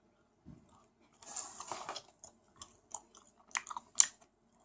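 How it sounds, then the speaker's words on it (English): Close, crisp chewing and crunching of a firm Swedish Easter candy, with irregular bursts of wet, sticky mastication and sharp bites separated by near-silence in a quiet room. "And this was a bit harder to chew through."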